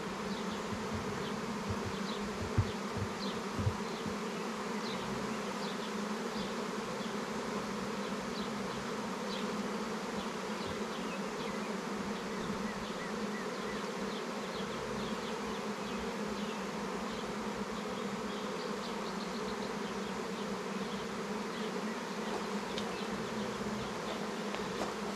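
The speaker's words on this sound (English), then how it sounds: "there's a pile of freaking bees on here" A dense, steady hum of many honeybees buzzing together around a hive, continuous and close, with no voices.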